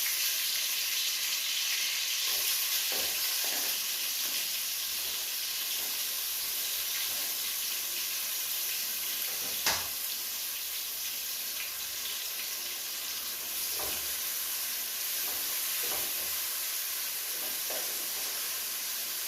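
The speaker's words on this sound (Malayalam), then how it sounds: "നെയ് ചൂടായാൽ എന്താക്കാം അരിഞ്ഞു വെച്ച സവാള ഇട്ട് കൊടുക്കാം" Chopped onions fry in hot ghee with a steady, close hiss of sizzling throughout, broken by a few faint clicks and scrapes of stirring; no one speaks.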